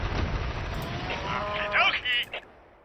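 Cattle mooing in the Army Men RTS real-time strategy game, a couple of short lowing calls near the end rising over a busy bed of in-game battle noise.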